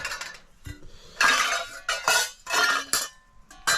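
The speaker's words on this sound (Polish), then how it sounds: "Talerz do jedzenia, garnek do gotowania, filiżanka do kawy i następny garnek do gotowania." A camping plate, cooking pots and a coffee cup are handled at close range at a forest campsite, producing bursts of metallic clinks, scrapes and knocks separated by short pauses, with no talking.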